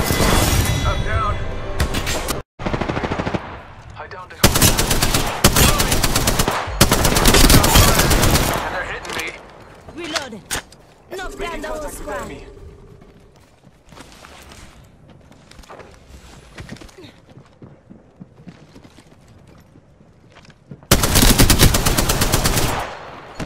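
Loud bursts of automatic machine gun fire in Apex Legends come in several long sustained volleys with quieter gaps, and voices speak between them.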